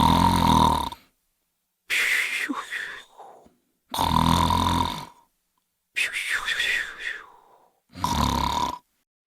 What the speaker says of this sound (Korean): 말을 마친 거인은 이내 코를 골기 시작했다.